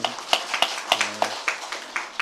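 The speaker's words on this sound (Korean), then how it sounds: "우리 하나님께 감사 박수 한번 올려드릴까요?" A church congregation claps together in a steady, even rhythm, roughly three claps per second, moderately loud with a faint sustained tone underneath.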